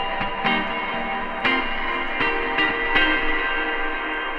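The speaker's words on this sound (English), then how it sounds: "You can choose a different type of distortion." Sampled sound run through a heavier distortion effect in the LANDR Sampler plug-in, giving a gritty, saturated tone with repeated hits and a dense, buzzy upper range.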